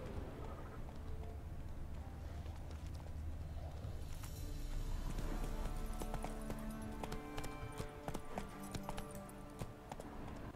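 A horse gallops in The Witcher 3 video game, with rapid rhythmic hoofbeats on the ground that grow louder and denser midway and continue under ambient game sound.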